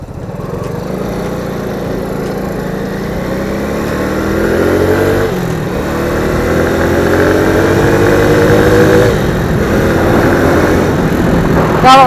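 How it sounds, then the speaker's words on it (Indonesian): A Suzuki Shogun motorcycle engine runs close and loud, its buzzing note rising and falling as the throttle opens and eases off repeatedly during a ride, with no one speaking. "Tapi kalau mesinnya ini emang suaranya Shogun kayak gini apa ya?"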